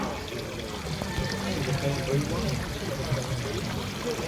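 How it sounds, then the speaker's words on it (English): A decorative garden water feature at a garden festival pours and trickles continuously, a steady close splashing stream with faint outdoor ambience around it. "how beautiful is that water feature?"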